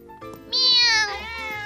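A single loud, close cartoon cat meow, rising and holding bright and clear before trailing off.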